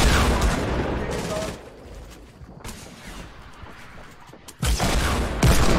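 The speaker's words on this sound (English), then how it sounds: "I'm shooting him out." Gunfire from shooting at an enemy in a multiplayer shooter game, several bursts of rapid shots in loud clusters, the last burst the heaviest, with a player talking between them.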